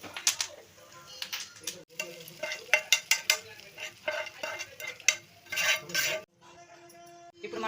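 Gongura tomato pachadi is stirred and mixed in a pan, with irregular bursts of spoon scraping and clinking against the vessel, close and fairly quiet, and short pauses between strokes.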